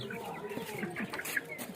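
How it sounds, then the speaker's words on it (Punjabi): Hens and small chicks cluck and peep close by in a short burst of soft, overlapping calls, with quiet farmyard background. "ਥੱਲੇ ਚੂਚੀਆਂ ਇਹ ਨਿੱਕੀਆਂ"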